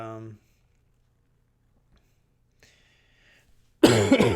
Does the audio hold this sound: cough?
yes